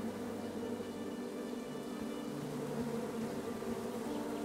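Bees buzz continuously in the King's Quest game, a dense, steady droning hum that stays at an even, moderate level from start to finish with no other sounds.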